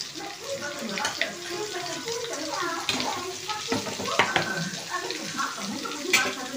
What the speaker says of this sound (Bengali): ওর মধ্যে আমি দিয়ে দিচ্ছি মাখন, দিয়ে দিলাম 2 চামচের মতো মাখন দিয়ে দিলাম।